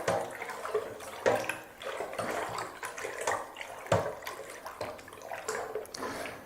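Zinfandel wine must being stirred vigorously in a bucket to add oxygen for the yeast, a steady churning slosh of liquid with repeated sharp splashy strokes, close and fairly loud, with no talking.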